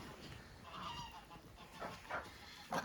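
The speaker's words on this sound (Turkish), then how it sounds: "Bizim kazlar ötüyor." Several geese honk at a distance in short, uneven calls, rising over a steady background hiss.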